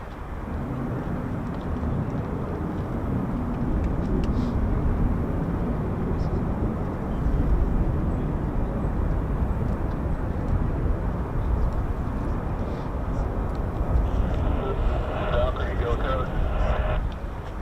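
F-35 fighter jets take off at RAF Lakenheath, a sustained distant roar of jet engines with low rumble, heard over wind noise with voices talking nearby.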